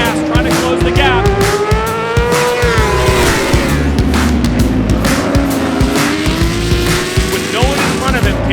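A racing motorcycle in a racing video game accelerates hard out of the final corner, its high engine note climbing steadily and staying loud and close while a commentator talks over it.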